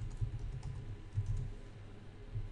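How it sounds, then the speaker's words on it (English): Typing on a computer keyboard while entering a short check-in comment in Unity's Plastic SCM, a steady run of soft, close key clicks with small pauses, no talking. "You will need to type a small comment explaining what you have done"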